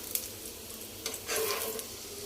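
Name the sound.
poha and cabbage cutlets sizzling while frying in pan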